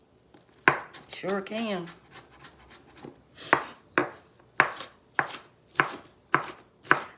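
Onions are chopped small with a knife on a board in a steady series of sharp, close thuds, after a short spoken remark.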